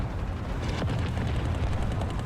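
Booming 37 mm cannon shots from a Soviet T-26 light tank in the War Thunder combat game, heavy low-end blasts layered over steady rumbling battle noise with no voices.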